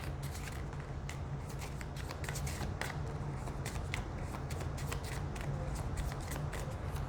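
Oracle cards shuffled by hand during a Scorpio money reading, giving a steady, close riffling and sliding patter with frequent crisp flicks throughout, heard alone without talk.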